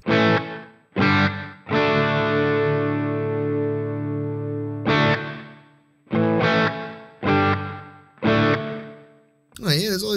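Electric guitar with a distorted tone playing separated chords and a long sustained note through a Sonicake Matribox 2 stereo reverb, each attack followed by a short, bouncy slapback echo.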